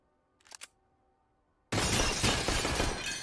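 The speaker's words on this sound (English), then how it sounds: "Break of the glass and the Molotov." Glass breaking during a Counter-Strike match on the map Train, a faint small clink followed by a sudden loud shatter that fills the rest of the moment.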